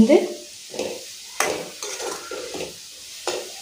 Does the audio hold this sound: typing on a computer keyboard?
no